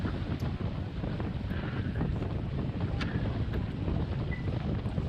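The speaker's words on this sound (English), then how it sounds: "It's quite windy though." Steady wind buffets the microphone during a sailboat match race on the water off Macao, a constant broadband rush with faint hull and rigging sounds and no talk.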